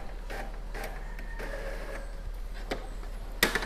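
An Epson L3210 inkjet printer running quietly after a paper jam is cleared, with soft mechanical whirs and a few brief feed bursts, ending in a sharper clack near the end.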